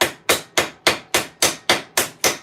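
Sharp ringing strikes from a small ball peen hammer riveting metal half gauntlets, nine evenly spaced blows in a brisk steady rhythm, loud and close with no talking.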